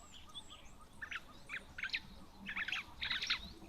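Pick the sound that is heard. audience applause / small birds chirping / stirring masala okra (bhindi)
small birds chirping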